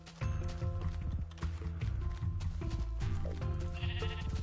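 Sheep bleat in the Minecraft video game, a few short game-sound calls set over dense, steady game music and effects at a moderate level.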